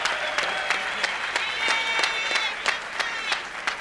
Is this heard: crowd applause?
yes